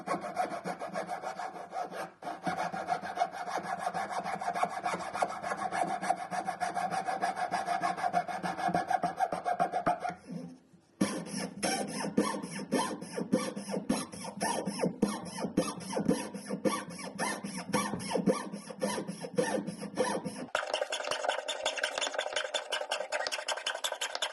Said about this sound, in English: you can continue with a needle file, and I am using this triangular one